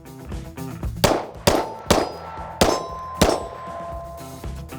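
Bullets strike a small 5-inch steel flapper target at a shooting range, ringing out as five or six sharp metallic clangs in an irregular rhythm, each with a brief ringing decay.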